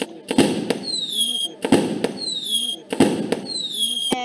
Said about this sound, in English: play start sound fireworks until done